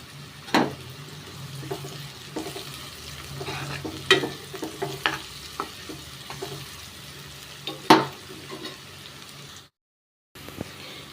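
Tempering spices sizzle in hot oil with turmeric added, a steady crackling fry punctuated by scattered sharp pops and utensil clicks, close and moderately loud, with a brief silent gap near the end.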